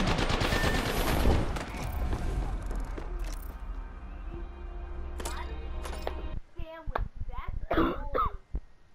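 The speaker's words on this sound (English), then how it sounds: "Getting shot at." Gunfire from the Apex Legends video game, a series of sharp shots breaking through mixed with game sounds and voice chatter, with a few louder bursts near the end.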